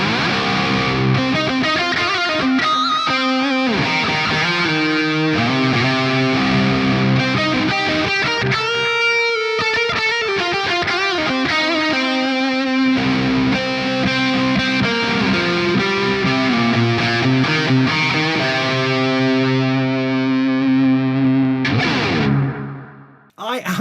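Smooth, sustained electric guitar lead played through an ENGL Powerball II amp with wet pedalboard effects such as chorus and echo, loud and continuous with long ringing notes, cutting off abruptly near the end.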